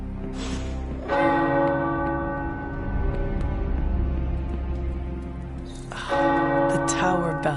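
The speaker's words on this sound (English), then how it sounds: "The tower bells are ringing." Tower bells ring in the Marvel Midnight Suns video game, with two loud clanging strikes several seconds apart, each followed by a long, sustained, shimmering ring that hums on between the strikes.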